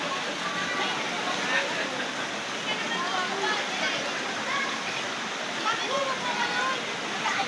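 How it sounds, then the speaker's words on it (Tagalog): Spring water welling up from underground at a clear natural spring, a continuous close bubbling and trickling wash that stays steady throughout. "doon ang gagaling sa ilalim ng lupa yung tubig"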